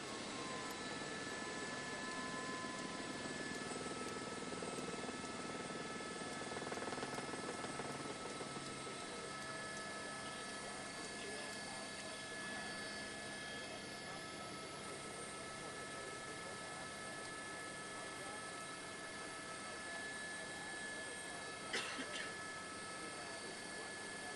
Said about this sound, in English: Here's the Riverside City Police helicopter that's tracking this vehicle northbound